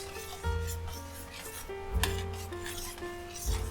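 A spoon stirs cream into a simmering mango yogurt chicken dish, making a steady rubbing, scraping sound against the pot over a constant low bubbling hum, with a few sharper scrapes and no talk.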